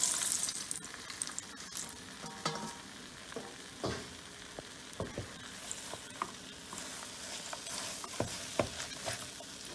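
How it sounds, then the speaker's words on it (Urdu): Thick date paste mixed with nuts cooks on a hot griddle, giving a continuous soft sizzle with scattered crackles and scraping stir sounds, fairly close and without talk. "اب ہم یہ پکائیں گے توے پہ تھوڑی دیر کے لیے۔"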